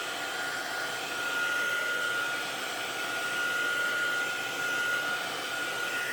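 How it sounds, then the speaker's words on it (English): Heat gun blowing hot air over freshly painted watercolor paintings, a steady close whooshing hum with a faint high whine, unbroken for the whole stretch and with no voices. "we're going to dry them, or at least try to dry them really quick with the heat gun"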